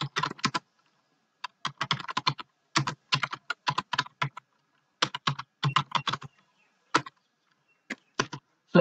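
A computer keyboard is typed on in quick bursts of close, crisp key clicks while an image description is entered, separated by short silent pauses.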